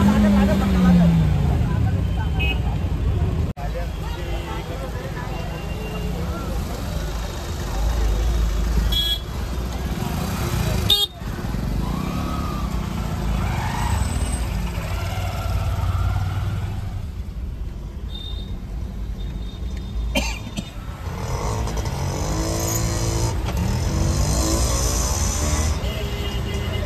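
A traffic jam of cars and motorcycles sits stuck on a crowded dirt road near the Mhasa village fair. Engines drone steadily with scattered horn toots, and people talk throughout close to the listener.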